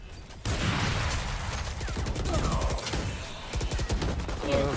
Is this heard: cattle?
no